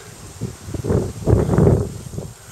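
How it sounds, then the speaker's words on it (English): Wind gusting outdoors, a soft broadband rush that swells twice over a couple of seconds and buffets the microphone with low rumble, loudest in the middle and easing toward the end, with no talking. "I think wind's blowing now"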